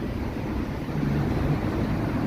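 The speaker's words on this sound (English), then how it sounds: "Is windy as F out here." Winter wind buffeting a microphone on a walk along a Toronto street, a steady low roaring rumble throughout with no voices.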